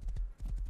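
Horse hooves clip-clop in the video game Rust, a quick, quiet run of about six soft, evenly spaced thuds.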